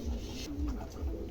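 A pair of exhibition homer pigeons, one Andalusian, coo softly and close in a brief low murmur against steady background hiss.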